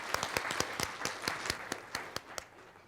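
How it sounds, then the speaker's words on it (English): Faint, sparse audience applause follows a question at a birth summit panel discussion: a dozen or so distinct individual claps in a loose rhythm, thinning out toward the end. "Give her a round of applause."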